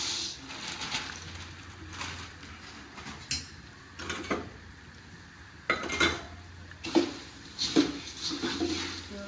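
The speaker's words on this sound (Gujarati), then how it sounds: "નાખી હળદર, થોડાક હળદર થોડી જાજી માત્રામાં. નાખી દીધા મમરા." Puffed rice (mamra) with turmeric poured into a cooking pan, giving scattered clinks and metallic scrapes of utensil on pan with brief rustling bursts, fairly close and moderately loud, with no talking.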